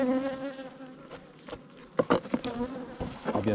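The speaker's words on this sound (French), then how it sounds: "je suis parti toujours avec des abeilles plus douces" Honeybees buzz at a hive in a close, steady drone with a few sharper passing buzzes and light taps, with no voices.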